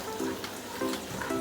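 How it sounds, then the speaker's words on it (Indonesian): Chili dipping sauce boils in a pan, giving a close, steady sizzling bubble with small pops throughout, with no talking. "Udah mendidih ya teman-teman, udah meletup-meletup."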